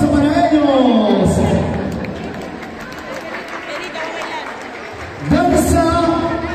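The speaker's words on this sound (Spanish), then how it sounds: "¡Fuerte los aplausos para ellos!" An audience claps in a burst of applause that swells, then fades in the middle. Amplified voices or music can be heard before and after it.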